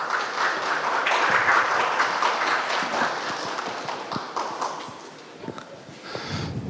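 An audience applauds to welcome a speaker onto the stage at a Web3 conference talk, dense clapping that holds steady and then thins out to scattered claps toward the end.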